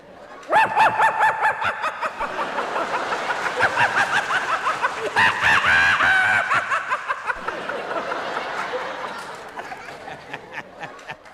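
A voice imitates a chicken with a long run of rapid, rhythmic clucking and squawking, rising and falling in pitch.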